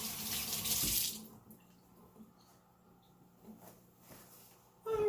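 Tap water gushes loudly into a sink for a quick hand wash while making cinnamon buns, then cuts off after about a second, leaving a quiet kitchen with a few faint clinks.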